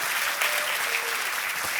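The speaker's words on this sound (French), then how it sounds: "Est-ce que vraiment on peut faire un vrai tonnerre d'applaudissements" Church congregation applauding, a steady, dense wash of clapping hands from many people filling the space evenly, with no voices standing out.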